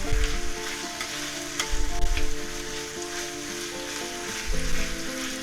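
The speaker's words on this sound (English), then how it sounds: "let's fry this up and crumble it up as big as you want" Ground meat for a tortilla pizza fries and crumbles in a pan, sizzling steadily up close with scraping and stirring bumps of the utensil, no voices.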